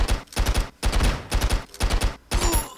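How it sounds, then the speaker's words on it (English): Rapid shotgun blasts ring out in Stick Arena Dimensions, loud and close, fired in quick clusters of bursts separated by short pauses. "In between his shotgun blasts"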